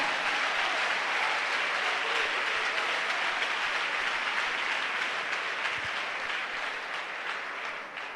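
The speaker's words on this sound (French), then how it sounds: "Maintenant, acclame Jésus." Church congregation applauding to acclaim Jesus during a service, a dense, sustained, loud wash of clapping that continues throughout and eases off slightly near the end.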